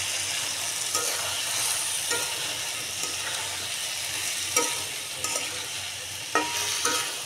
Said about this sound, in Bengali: এখন আমি এই যে আমার ভাপ দিয়ে রাখা পেঁপেগুলো এগুলো দিয়ে দিলাম।